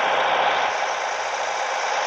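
A tractor engine idles in Farming Simulator 14, a steady, loud, continuous mechanical drone with no change in pace and no talking.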